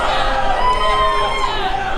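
A packed wrestling show crowd at WCWO gives off a steady, dense roar of chatter and shouting across the two seconds, with no single voice standing out.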